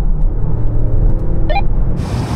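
Range Rover, Bentley Bentayga, Mercedes-AMG GLE 63 and Audi SQ7 SUVs accelerate hard in a rolling race from 50 mph in sport mode, a loud steady engine roar with a brief whine near the end.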